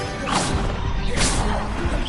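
Fiery whooshing bursts from the Incendio spell in Hogwarts Legacy flare twice in quick succession, loud and close over dense game noise.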